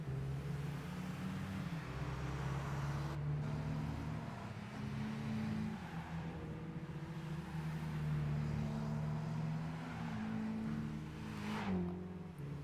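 A BMW 3 Series and a 1 Series race in Gran Turismo 5, engines droning and shifting pitch through gear changes and revving, continuous and fairly loud with no voices.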